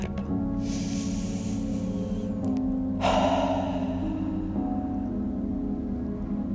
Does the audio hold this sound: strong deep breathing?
yes